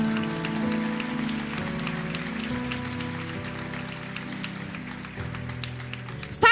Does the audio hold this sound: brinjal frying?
no